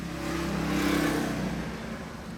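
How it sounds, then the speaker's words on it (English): A motorcycle and a car pass by outdoors, a steady mid-pitched engine drone that swells in the middle and fades slightly, heard at a moderate distance with no talking. "wait for that motorcycle to go by, that car."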